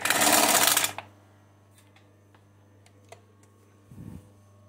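A Seiko LSW-8BL industrial sewing machine runs in a short loud burst at the start, then stops, leaving a steady motor hum with faint ticks and a brief low thump near the end.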